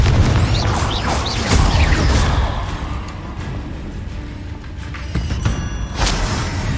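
Spells burst and explode in the Hogwarts Legacy video game, with a run of loud booming blasts and crashes early on, then a steadier rumble of combat effects.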